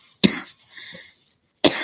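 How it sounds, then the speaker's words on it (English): A person coughs twice in a morning coughing fit, each cough loud, close and abrupt, with a quieter breathy throat sound between them. "It's my morning cough session."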